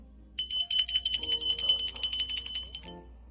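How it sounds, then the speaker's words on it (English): A small handbell rung continuously for spirit guides, a bright, sustained metallic ringing with rapid repeated strikes that rings out loudly and close for about two and a half seconds, then fades, with no voices. "I'm gonna ring the bell for my spirit guides, guardian angels, and ancestors"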